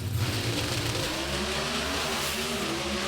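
Drag racing cars accelerate down the track at the Mile High Nationals at Bandimere, a steady, loud engine roar that sustains without a break from start to finish.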